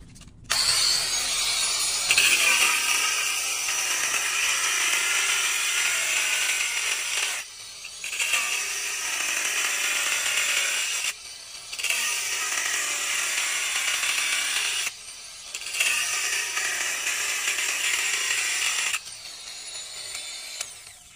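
An angle grinder converted to run from a 48-volt DC battery cuts in four long, loud, harsh bursts, each separated by a brief pause, heard close with no talking.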